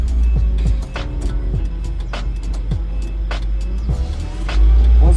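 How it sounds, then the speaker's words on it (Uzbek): A heavy-category vehicle on a driving exam rolls slowly onto the road, its engine giving a loud, steady low rumble with clicks and rattles throughout and a louder surge at the end, while a person talks. "Mana mashina o'zi sekin o'sha yo'lga tushishni boshladi."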